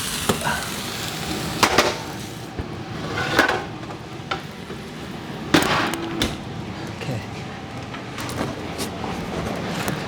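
Cremini and shiitake mushrooms sizzling in a pan over high heat, a steady close hiss broken by a few sharp utensil clatters as they are stirred, with a voice talking over it.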